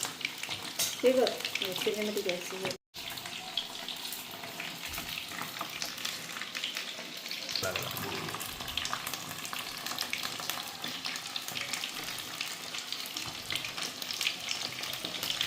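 Mushroom pakoras frying in hot oil, a dense, steady crackling sizzle that carries on close and continuous, with a brief drop near the start and a few soft background noises.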